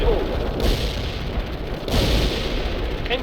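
Incoming artillery fire in the real-time strategy game World in Conflict, two heavy booming impacts about a second apart rolling over constant battlefield rumble.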